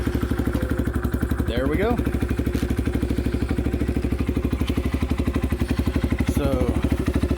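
A Chinese motorcycle engine starts and settles into a steady, rapid putter at idle, close and clattery, running continuously while someone speaks over it briefly.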